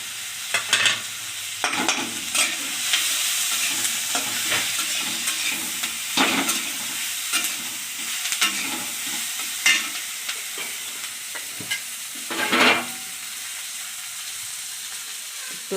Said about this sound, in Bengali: মাছের সঙ্গে পেঁয়াজের সঙ্গে ভাজলে ভালো হয়।